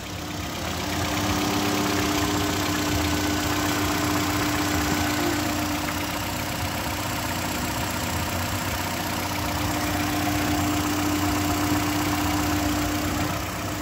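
A 2013 Nissan Rogue with 132,000 miles runs at a steady idle, a constant even engine hum with a faint whine, close and unbroken throughout with no talk.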